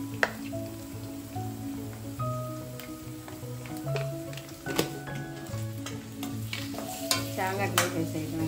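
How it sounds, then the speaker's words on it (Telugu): Taro root with turmeric and onion sizzles in a pan while being stirred, giving a steady crackling fry under repeated scraping and clattering spoon strokes, close up and without speech. "చామగడ్డలు వేసేయటమేనండి"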